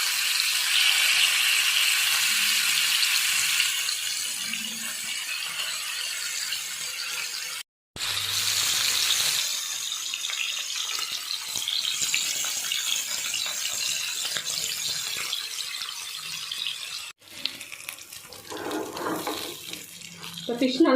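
Sardines (mathi fish) sizzle in hot oil, a steady loud hiss and crackle that runs on almost without pause, with a voice speaking faintly near the end.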